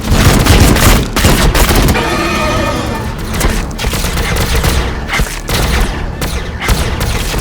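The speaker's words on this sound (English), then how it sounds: "We are taking fire! Fire!" Sustained heavy gunfire and booming blasts from a Warhammer Battlesector video game cutscene, a dense loud barrage of rapid shots and explosions running throughout.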